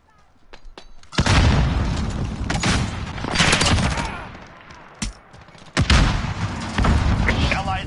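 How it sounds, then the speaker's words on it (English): Grenade blast and gunfire in Call of Duty beta gameplay: a sharp boom near the start, then rolling bursts of gunfire and further heavy booms at mid-clip and near the end, with game sounds throughout. "Grenade out!"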